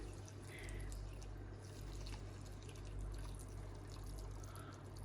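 Spring water poured into a jar of cucumbers being pickled, a steady close trickling pour over a low hum, continuous for several seconds with no talk.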